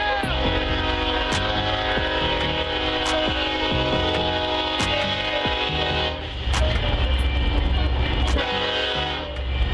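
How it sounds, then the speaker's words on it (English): A passing train rumbles close by with a steady hum and tonal horn-like drone, growing heavier and louder about two-thirds of the way through. "he could hear the sound of the train"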